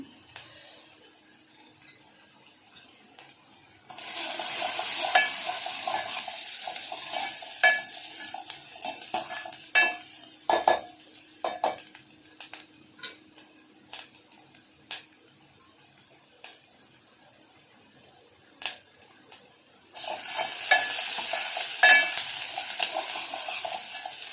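Cumin seeds dropped into hot oil for a lentil amti, bursting into a loud crackling sizzle that fades to scattered pops and stirring clicks before a second burst of sizzling near the end.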